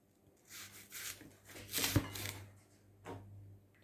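Knife cutting around the middle of a melon during fruit salad prep, giving soft scraping, rubbing strokes in short bursts, with one sharper crunch near the middle; close and fairly quiet.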